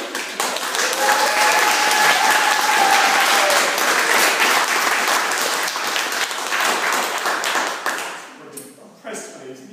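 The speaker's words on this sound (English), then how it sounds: "Nikki Sinclaire MEP finished with 2 great big rounds of applause" Loud, close applause from a comedy audience at the Edinburgh Fringe festival, a thick roar of clapping that holds steady for most of its length before thinning out into scattered claps near the end.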